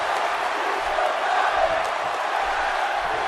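A large wrestling arena crowd roars and chants in a continuous, loud wash of massed voices during a match.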